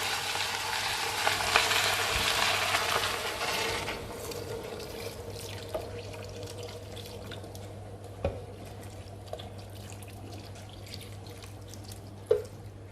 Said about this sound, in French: Je rajoute à peu près 1 litre d'eau.